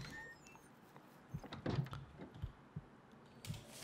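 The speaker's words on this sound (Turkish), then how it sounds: "Kalp atışlarımı duyuyorum lan." A survival character's heartbeat in The Long Dark, pulsing as soft, irregular low thumps over a hushed background of faint game ambience.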